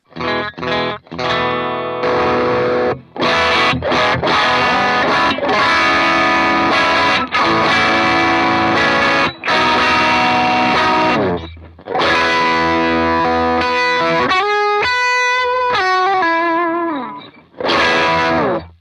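A saturated electric guitar lead through a Dumble-style overdrive pedal plays a melodic line with sustained, distorted notes and bends, loud and close, with brief pauses between phrases.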